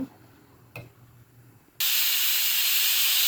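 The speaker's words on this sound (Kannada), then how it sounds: "ಕುಕ್ಕರ್ ವಿಷಿಲ್ ಬಂದಿದೆ" A kitchen pressure cooker vents steam through its whistle during home cooking of dal, a loud, steady hiss that bursts in abruptly partway through and continues without pause after a quieter stretch of background room noise.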